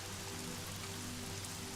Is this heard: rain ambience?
yes